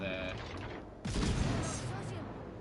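Heavy naval guns fire in World of Warships Legends, a sudden loud broadband blast about a second in with rumbling aftermath, after a quieter stretch with faint game tones.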